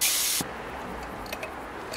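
Compressed air blasting through a paint spray gun being cleaned: a loud, harsh hiss that cuts off abruptly after about half a second, followed by quiet background with a few faint clicks.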